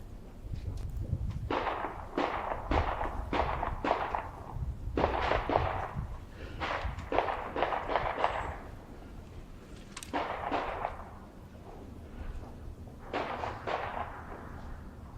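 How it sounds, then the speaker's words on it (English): Gunshots echo inside an abandoned school building, heard as repeated sharp cracks in short clusters, each followed by a hollow reverberant ring, with a low rumbling background throughout. "the sound of gunshots ringing out somewhere in the darkness."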